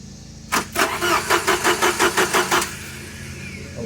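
A car engine cranks on its starter, engaged by jumping the solenoid from the positive battery terminal, with about ten even, chugging turns over two seconds. It does not catch, and a background hum continues before and after.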